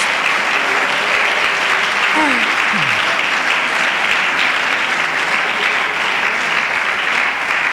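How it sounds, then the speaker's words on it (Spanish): A church congregation at a Sunday school service applauds loudly and steadily, a dense, even wash of clapping that holds for the whole stretch with no pauses. "Dele aplausos a la gloria de Dios."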